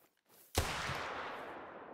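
A single sharp pistol shot rings out in a fox-hunting video game, sudden and loud after near silence, followed by a long fading echo.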